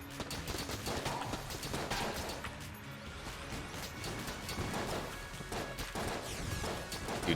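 Bullets in the Enter the Gungeon game fire and smack into a brick wall, a dense run of quick crunching impacts and pops layered over busy game music.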